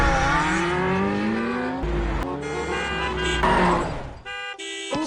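A car accelerates hard through city traffic with a rising, roaring engine, and short horn honks sound near the end. The noise is close and loud, with no talk.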